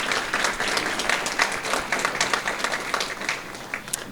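A crowd applauds students at a law school end-of-year ceremony, with dense, sustained clapping from many hands at a steady level that eases slightly near the close.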